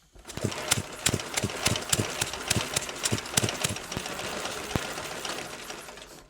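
A 1909 Indian motorcycle engine is turned over by hand to check compression, giving a quick run of evenly spaced, sharp puffing chuffs, close and fairly loud, that slow and fade near the end.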